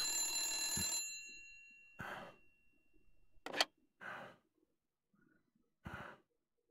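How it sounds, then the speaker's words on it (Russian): A telephone rings in the Blacksad: Under the Skin video game, one long bright ring followed by several shorter bursts separated by silence, fairly quiet. "Давай, бери телефон, Блэксад."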